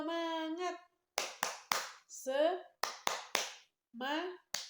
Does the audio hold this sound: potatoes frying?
no